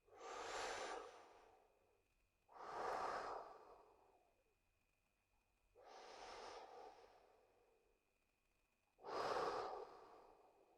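Four slow, deep belly breaths, each a long airy inhale or exhale separated by short quiet gaps, close and calm.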